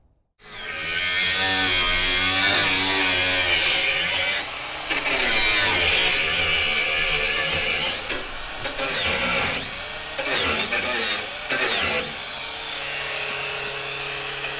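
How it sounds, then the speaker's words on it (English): A 4-inch angle grinder cuts steel while a Rima 36g sawmill frame is being assembled, a loud, steady high-pitched whine running nearly continuously with brief dips and pitch shifts as the disc bites and eases off. "I wasn't trusted to use the 4-inch grinder."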